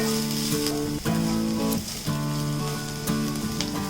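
Finely chopped ginger and garlic sizzle steadily in hot oil in a pan for green gram cutlets, a continuous crackling fry heard up close with no talking, overlaid by a constant tonal hum.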